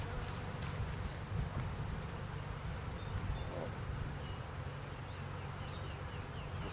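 Honeybees buzzing around an opened hive during a spring inspection, a dense continuous hum of many insects close by, steady and unbroken, with no talking.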